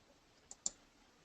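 A computer mouse right-click: two quick, quiet clicks close together, the second sharper, over faint room noise with no talking.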